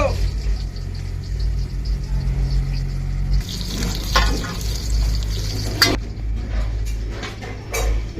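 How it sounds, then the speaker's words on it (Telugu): Dried red chillies, about fifty grams, sizzle steadily in a hundred grams of hot oil for a tomato-mint chutney, a continuous close frying hiss with a brief louder burst partway through. "నూనె వంద గ్రాములు మంచిగా వేడైంది నూనె ఎండిమిర్చి యాభై గ్రాములు"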